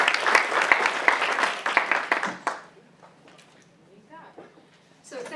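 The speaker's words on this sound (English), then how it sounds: "So if you all would please give her a round of applause as she comes up." An audience at a developer's conference claps loudly for about two and a half seconds as a speaker comes to the stage, then the clapping fades into scattered claps and quiet room murmur.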